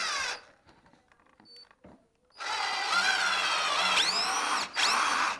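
A power drill bores into a metal iron soil pipe, whining loudly in two long close bursts with changing pitch, separated by a quieter stretch of small knocks and handling sounds.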